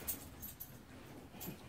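A dog whimpers softly indoors, faint and intermittent, with light rustling and brief jangling nearby.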